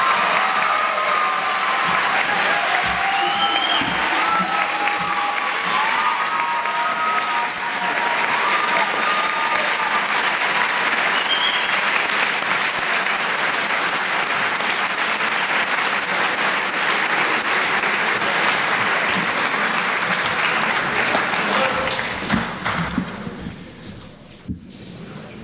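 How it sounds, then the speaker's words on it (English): Sustained audience applause at a 2014 high school honors ceremony, dense steady clapping from a large crowd filling the room for over twenty seconds before tapering off near the end. "Please give a round of applause to the nominees for leadership."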